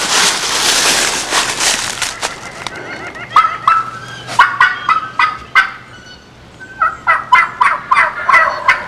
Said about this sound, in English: There's turkeys in here also.